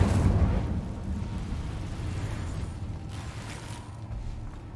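An Incendio fire spell cast in the video game Hogwarts Legacy, heard as a loud, rumbling burst of flame that opens strong and then settles into a sustained roar, fading slightly toward the end.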